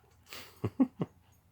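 A dog breathing close by in a trailer, three short soft puffs or snuffles in quick succession after a faint breathy onset, otherwise quiet.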